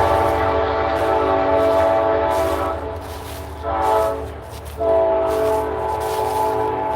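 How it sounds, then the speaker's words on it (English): An Amtrak train rolls past outdoors on wet, soft ground, its horn sounding as a steady loud chord, with a brief dip and then a second strong blast, all over a constant rumble of the rail cars. "Amtrak train coming and going."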